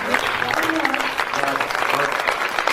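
Dense audience applause fills the whole stretch after a poem recital, steady and fairly loud, with no break in the clapping.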